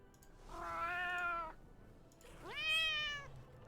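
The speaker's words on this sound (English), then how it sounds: "There's a harsher meow." Two drawn-out cat meows from a video game, the second rising sharply in pitch and sounding rougher and more insistent than the first.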